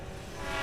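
A train rumbles by in a Roblox tunnel, a steady loud broadband roar that swells slightly over a brief moment, with no voices.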